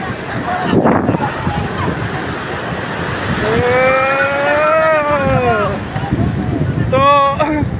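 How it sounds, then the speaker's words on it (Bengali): Sea waves surge and wash onto the beach at Cox's Bazar in a continuous broad roar with wind buffeting the microphone, and a brief whistling tone rises above the surf midway. "তো ভাই দেখুন আর ঢেউ আসতেছে"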